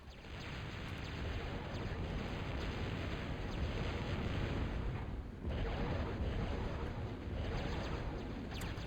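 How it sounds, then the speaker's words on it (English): In the strategy game Total Annihilation, bombers unleash a continuous rumbling barrage of explosions, a dense, booming roar that stays loud for several seconds. The roar dips briefly midway, then resumes. "it looks like he is coming out to bomb me here"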